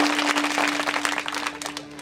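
An audience claps together at a Marathi kirtan, a dense, lively burst of applause over a steady sustained drone, continuing for about two seconds.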